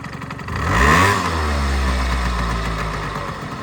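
A small Yamaha Jog scooter engine revs up sharply, then settles into a steady, close idle hum with a low throbbing rhythm.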